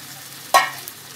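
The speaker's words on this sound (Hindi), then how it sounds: "और इसको हम मिक्स करेंगे और साथ में हम डालेंगे इसमें पनीर" Paneer stirred with fried capsicum and onion in a kadhai, a single short scraping stir with a brief sizzle over a quiet background, close and moderately loud.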